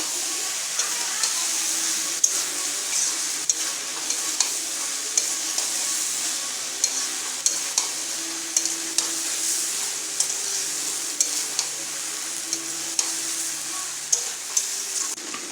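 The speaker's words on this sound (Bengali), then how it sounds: "পাস্তাগুলো দিয়ে আমি একসঙ্গে আবারও মিশিয়ে নেব" Cooked pasta stirred and tossed in a frying pan for a vegetarian pasta dish: a steady, close hiss of frying with regular light clicks and scrapes of the spoon against the pan, no voices.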